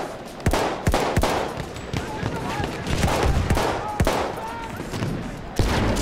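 Rifle shots ring out in a Battlefield 1 multiplayer match, several sharp cracks spaced a second or so apart over a busy battlefield din, with a player talking through parts of it.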